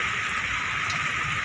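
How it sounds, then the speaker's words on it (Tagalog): Steady, dense hiss of heavy monsoon rain in Makati falling continuously, loud and close with no other sounds. "napakalakas ng ulan."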